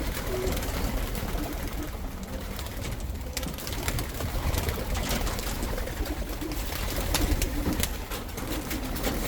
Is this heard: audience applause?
no